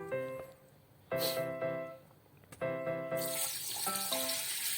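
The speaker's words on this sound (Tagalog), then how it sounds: "maglalagay tayo ng tubig. Malinis na tubig" Clean water runs from a tap into a pot for pork sinigang in bursts, a steady splashing stream that pauses and restarts before gushing more strongly toward the end.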